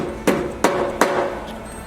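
Three sharp, loud strikes from a Husky dead blow hammer land at a steady, evenly spaced rhythm, each a close, solid thud with a short decay and no voices.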